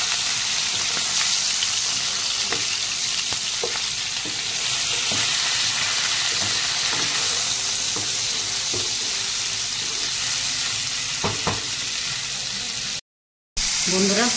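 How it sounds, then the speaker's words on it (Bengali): Shrimp fry in oil with turmeric and salt, a continuous close hiss and crackle with occasional spatula scrapes, briefly cutting out near the end. "হয়ে গেছে আমার মাছগুলো ভাজা।"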